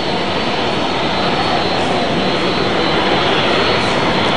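Airplane arriving at Halim Perdana Kusuma airport, a loud, steady jet engine roar filling the whole stretch without letup, with no voices over it.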